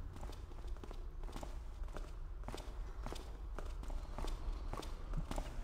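People walk in the stealth video game Thief, their footsteps a steady, fairly quiet series of distinct treads over a low ambient background with no talking.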